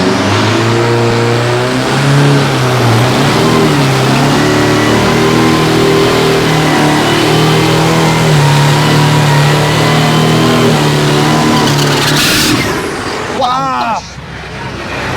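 A turbocharged diesel drag racing car in Thailand roars through a tire burnout, its engine droning loud and steady for about twelve seconds before cutting back, and a voice comes in briefly at the end.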